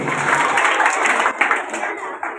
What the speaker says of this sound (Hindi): सही जवाब, जोरदार तालियां।